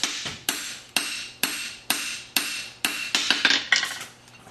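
Metal hammer blows on a horseshoe, shaping the heel calk on an anvil: about ten sharp ringing strikes at a steady rhythm, close and clear, the last few coming quicker, with no talk.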